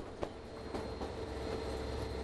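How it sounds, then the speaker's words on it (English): A White Pass railway train climbs out of a valley floor with extra power up front, giving a steady low rumble of engine and rolling wagons, a few faint clacks and squeals, and no voices. "Up front, some additional power is applied to pull the train out of the valley floor."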